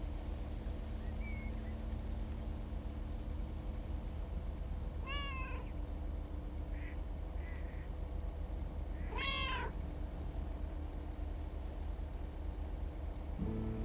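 A cat in the game Lake meows twice, a short rising call and then a louder one, clear over a steady low engine-like hum, with a faint chirp beforehand and no talking.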